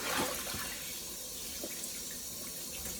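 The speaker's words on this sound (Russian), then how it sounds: "мы их ополоснули." Tap water runs steadily into a sink as shrimp are rinsed under it, a close, continuous gushing splash with a few brief clinks of handling and no talk.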